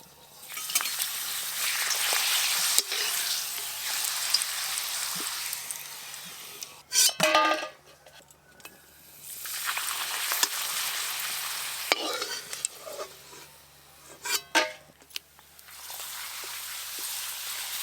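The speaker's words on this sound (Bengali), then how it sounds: "সর্ষের তেল বেশ ভালো করে গরম হয়ে গেছে, এবার পাঁপড়গুলো ভাজবো।" Steady loud sizzling of papad frying in hot mustard oil, broken a few times by clinks of a utensil against the pan, close up with no talking.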